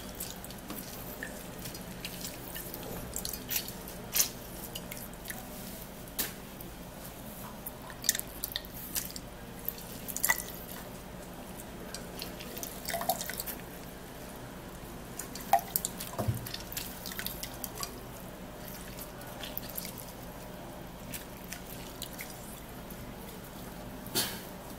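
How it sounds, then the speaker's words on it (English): Orange juice dripping and trickling through a sieve, scattered soft drips and small splashes over a quiet background, close up, with no talking. "our orange juice is sieved, strained, and I'm gonna be sieving it out equally."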